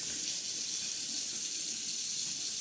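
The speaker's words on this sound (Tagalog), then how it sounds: "Yan yung flow ng tubig." Water flows steadily from the tap of a water heater, a continuous hiss of running water close by and fairly quiet, with no talk.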